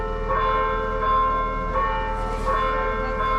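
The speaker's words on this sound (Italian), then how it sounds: "e invece ha suonato la chiesa." Church bells ring steadily in a continuous tolling wash at moderate loudness, with rich sustained overtones and no speech, heard during an outdoor summer event.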